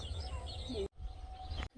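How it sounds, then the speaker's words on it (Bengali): Several birds chirp and tweet faintly in the distance across a field, brief high calls scattered over a low outdoor hum, interrupted by short dropouts. "মাঠে আবার প্রচুর পাখি এসেছে দেখেছো"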